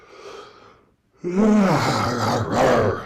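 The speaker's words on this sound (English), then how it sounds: "Just kidding, I yawned." A person yawns, a long drawn-out voiced breath that rises and falls, close to the microphone after a brief quiet pause.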